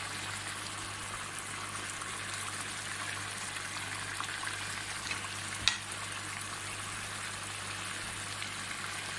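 Chopped tomatoes and beef fry in a karahi, giving a steady, moderate sizzle with a soft continuous crackle and one brief clink partway through.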